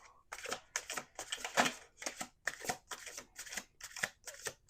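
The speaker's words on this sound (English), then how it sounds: "Last shuffle." Quiet, crisp riffle-shuffles of tarot cards, about a dozen rapid bursts in a steady rhythm with brief pauses between, close by and alone.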